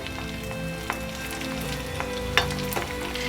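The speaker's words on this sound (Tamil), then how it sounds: "இப்போ இந்த சைடை ஒரு மீடியம் ஃப்ளேமில் வச்சு ஒரு 5 நிமிஷம் ஃப்ரை பண்ணிக்கலாம்" Chicken pieces for chicken Manchurian sizzle steadily in a pan, with crackling pops throughout and a couple of sharper clinks as the pieces are turned over.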